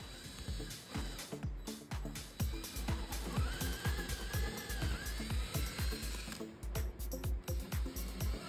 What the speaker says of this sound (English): Now grab your drill with the 3/4-inch bit and drill them out.